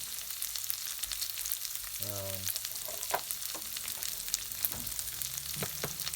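Ingredients for a lentil curry soften in a frying pan with a quiet, steady sizzle and scattered crackles, joined by a short tonal hum and a few soft clinks.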